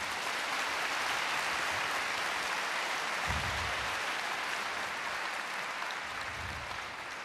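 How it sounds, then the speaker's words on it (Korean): Audience applause at a year-end classical concert for business leaders in a hall, a broad steady wash of clapping held at moderate level for several seconds, slowly easing toward the end. "여러분 큰 박수 부탁드립니다"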